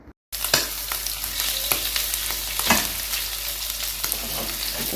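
Meat sizzles and fries loudly in a hot pan, with a steady crackling hiss. The sizzle starts abruptly after a brief quiet moment and carries on close and continuous, with occasional stirring clatter.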